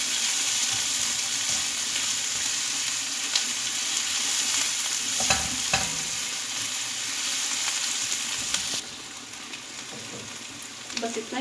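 Onions sautéing in a pan for samosa filling, a steady broadband sizzle close up with a few stirring knocks, easing slightly near the end; faint voice-like sounds in the background.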